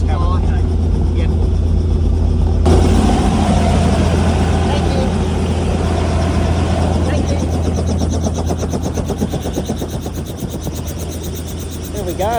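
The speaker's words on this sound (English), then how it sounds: "That's the helicopter," A helicopter engine runs at idle on the ground after a ride, a steady low drone with a rhythmic rotor chop building toward the end, close and loud, with people talking over it.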